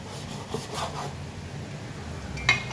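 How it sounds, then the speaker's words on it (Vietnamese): A knife slicing pork belly on a cutting board in a home kitchen gives soft, repeated rubbing, rasping strokes, close and low in level with no talk. "Thịt ba chỉ các bạn sẽ thái ra cho mình."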